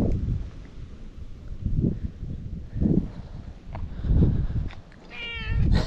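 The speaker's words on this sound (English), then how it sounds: "you were meowing before I could even really see where you were" An outdoor cat meows about five times at fairly regular intervals, each meow close and clear, over light wind noise and a faint rustle.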